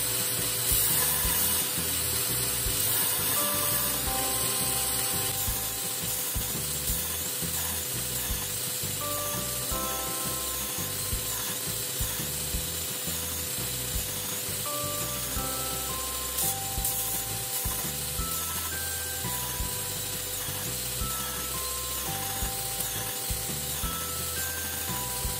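A CPM-MagnaCut steel knife blade is sanded by hand on 220 grit paper, a steady continuous rubbing and scraping that runs throughout with a faint high whine and some background hum, with no talk.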